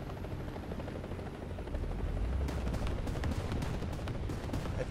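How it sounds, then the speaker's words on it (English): Helicopter in War Thunder, a continuous rotor thrum that grows louder partway through, with faint sharp cracks of distant gunfire layered over the droning beat. "It's a chopper."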